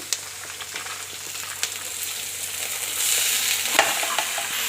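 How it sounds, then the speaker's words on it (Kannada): Greens and legumes fry with onion in a pan while being stirred, a steady close sizzle with soft scraping ticks that grows louder and brighter toward the end, no voices. "ನೋಡಿ ಈ ರೀತಿಯಾಗಿ ಚೆನ್ನಾಗಿ ಮಿಕ್ಸ್ ಮಾಡ್ಕೊಳ್ಳೋಣ"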